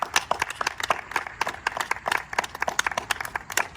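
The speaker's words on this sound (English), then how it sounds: "about a round of applause for our wonderful Reverend?" Audience at a gathering claps for a reverend. The clapping is thin and close, made of distinct individual hand claps in an uneven rhythm rather than a dense roar, and it carries on steadily throughout.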